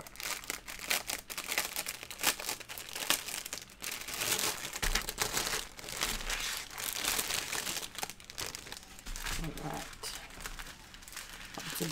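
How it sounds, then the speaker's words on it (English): Plastic packaging crinkles and crackles in dense, continuous bursts while diamond art drills are unboxed. A voice talks over the rustling throughout. "If you don't like the crinkling, mute your headset for 2 to 3 seconds"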